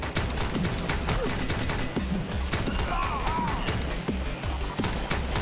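Dense, continuous gunfire from the John Wick Commute Simulator video game: rapid overlapping shots and bursts, loud and close, with faint scattered impacts and crashes underneath.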